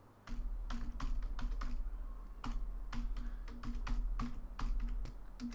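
Steady rapid typing on a computer keyboard while writing Android Studio code, close and clear with irregular clusters of key clicks and no talking.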